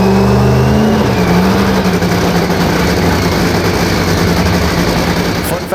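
Supercharged nitromethane Top Fuel dragster engine running, a loud, dense, rough roar that holds steady throughout with a slight drop in pitch early on, close and overpowering.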